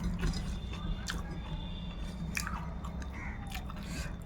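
Someone chews fried rice with chicken kosha close to the microphone, with soft repeated biting and moist mouth crunches over a low steady background hum.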